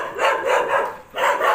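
Big neighborhood dogs bark in quick repeated bursts, loud and fairly close, with a short pause before a final round of barks.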